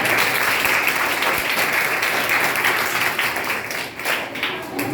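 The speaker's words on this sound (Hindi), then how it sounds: "उनको एक बार तहे दिल से तालियों से स्वागत करें।" An audience of children, parents and teachers at a school talent competition in Barhiya, Bihar claps warmly in welcome, a loud, steady wash of applause throughout that softens slightly near the end.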